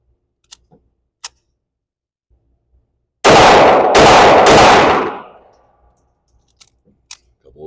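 A gun at a shooting range fires a rapid string of loud, close shots in about three quick bursts, ringing out after a few quiet mechanical clicks, then fading to small handling noises.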